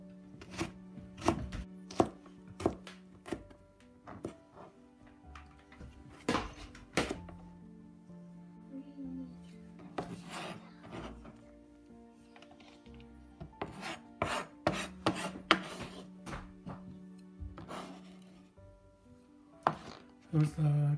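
A knife slices vegetables such as carrots on a cutting board while Fish Flavored Fried Shredded Pork is prepared, with close, sharp chopping strikes coming in quick uneven bursts separated by short pauses.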